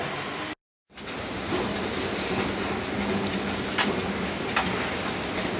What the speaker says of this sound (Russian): объявили, что наш поезд прибывает на четвертый путь